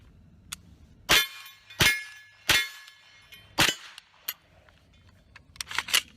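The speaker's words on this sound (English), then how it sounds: "So let's take some shots." Sharp shots from a firearm fitted with a green 532nm laser sight, fired outdoors at a target: four loud, distinct cracks about a second apart, then a few quieter clicks and rattles, with no talking.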